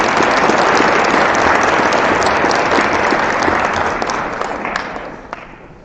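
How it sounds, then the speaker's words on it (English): An audience claps for the Chamber at a celebration of a high school purchase, a dense, loud burst of applause that fades toward the end. "Let's give a round of applause to our Chamber."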